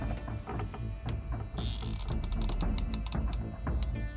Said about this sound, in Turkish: silikon sıkıyorum ucuna